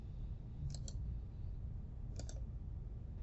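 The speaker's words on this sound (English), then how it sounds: "Once you see custom webhook appear, go ahead and click this action." A computer mouse gives two quick double clicks about a second and a half apart, crisp and close against a low background hum.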